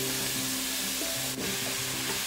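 Pepper and zucchini frying in a pan and being stirred, a steady close hiss of sizzling oil with soft scraping stirs, no voices.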